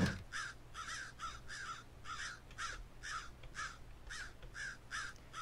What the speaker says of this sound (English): So we need to ask these crows for help or what?